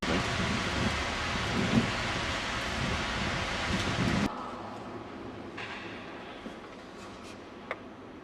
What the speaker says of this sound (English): We're walking through the rain, and this is what we get.